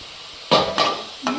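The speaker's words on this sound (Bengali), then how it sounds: "একটু সামান্য একটু জল দেব" Hot pan of beetroot as a little water is splashed in, giving three loud bursts of hissing steam and sizzle, each rising sharply and fading, close by.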